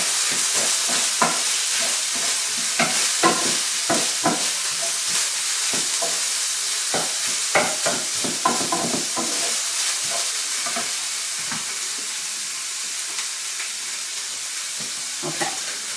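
Hamburger and potatoes sizzle steadily in a hot pan while a utensil scrapes and stirs in irregular clicks and taps, close by, with no talking.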